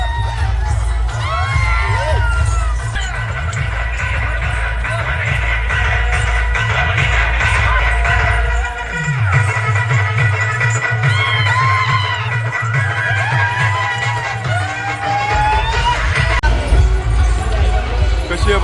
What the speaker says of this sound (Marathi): कशी आहे बघा गर्दी.